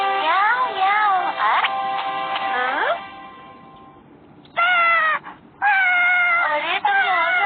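Cartoon kitten meows come in a series of high, wavering cries, two or three in quick succession, then a pause, then more short mews, close and clear with no background.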